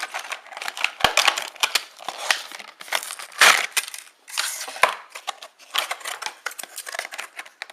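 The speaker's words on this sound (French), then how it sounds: "il faut toujours des ciseaux pour ouvrir le packaging" Scissors cut and crinkle through the plastic packaging of a metal iPhone case, making a close series of sharp snips and crackling rustles in irregular bursts, with no one speaking.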